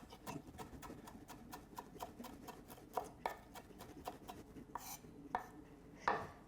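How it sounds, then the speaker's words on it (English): Fresh dill being finely chopped with a knife on a board, a quick run of light, regular taps that grows sparser and sharper toward the end, fairly faint and without talk. "I'm going to chop up some dill and throw it in as well"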